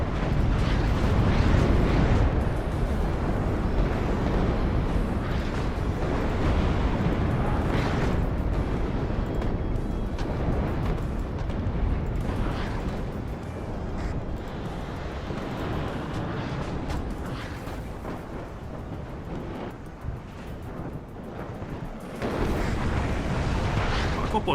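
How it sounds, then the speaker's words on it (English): Cluster bomb explosions in the video game WARNO come as a dense, rumbling run of blasts and crackling bursts that roll on without a break, loud and sustained, with a fresh surge near the end. "I'm going to try and drop a cluster bomb here"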